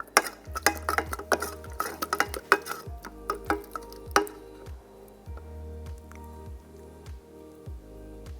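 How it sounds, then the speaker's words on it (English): A spoon stirs cake topping in a dish, producing a series of wet squishy clicks and soft clinks in an irregular rhythm, close and fairly quiet, thinning out toward the end. "we're just going to go ahead and put this here and stir it up just a little bit"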